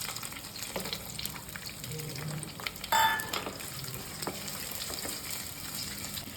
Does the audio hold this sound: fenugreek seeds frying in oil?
yes